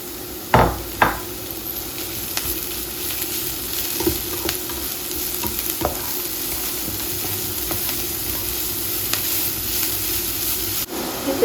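Grated beetroot for borscht sizzles and fries steadily in a pan, with a few scraping stirs near the start and a continuous hiss throughout.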